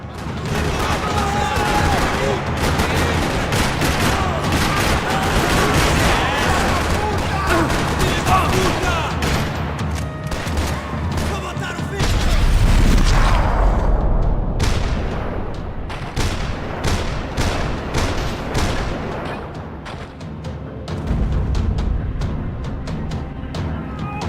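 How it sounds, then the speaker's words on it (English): Gunfire in the video game Max Payne 3 crackles through a parking lot, dense overlapping shots and bursts rattling on without pause, with a few heavier booms partway through. "Another parking lot rattling with gunfire."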